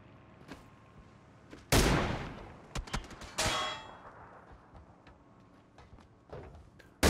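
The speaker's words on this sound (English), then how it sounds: "Who is shooting at us?" Sharp metallic gunshots and clanging impacts in PUBG, two loud cracks with ringing tails among scattered fainter clicks and pings, set against a quiet background.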